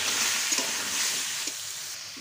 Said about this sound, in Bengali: তারপর এই তেল কড়াতেই আমি পটলগুলো ভাজা করে নেব।